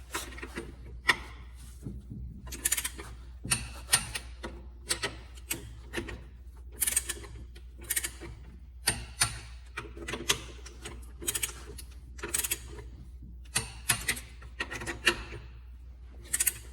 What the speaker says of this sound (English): Gonna torque the wheels, put the caps on